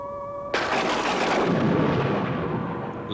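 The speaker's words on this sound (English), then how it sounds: "Lightning strikes" Thunder from a lightning strike over central Australia: a sudden loud crack breaking into a long, broad rumble that slowly fades, heard alone after a quiet start.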